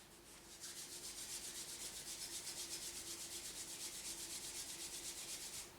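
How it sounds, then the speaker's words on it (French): Fingers rub steadily in front of and behind the ears during a Qi Gong self-massage, making a continuous close, soft rhythmic brushing with a faint pulsing back-and-forth texture and no talking. "on frotte devant et derrière les oreilles"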